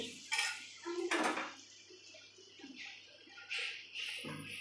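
Eggs get mixed in a pan, and a utensil clinks against the metal in a few soft, scattered taps and scrapes. The sound is faint and close, with quiet kitchen ambience between the clinks.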